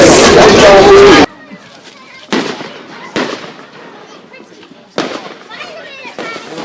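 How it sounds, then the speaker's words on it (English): Bonfire night fireworks burst outdoors in a display, a loud crackling barrage followed by several separate booming pops with crowd chatter and voices in between. "today we are at a bonfire night and"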